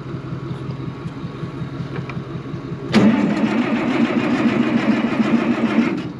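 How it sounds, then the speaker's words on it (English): A farm tractor's engine cold-starts with a sharp burst, then settles into a loud, steady warming idle with a rough, rumbling chug that continues to the end. "I'm gonna start the tractor here before we start transferring."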